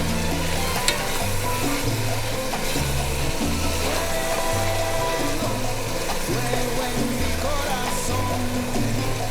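Salted vegetables sizzle steadily in a pan for a chicken-and-rice dish, a continuous close frying hiss broken by soft, regular low thumps of stirring.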